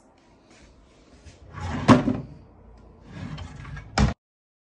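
A baby's changing-table drawer slides out with a scraping rumble and a sharp knock, then is pushed back shut with a second brief thud, close by in a quiet nursery.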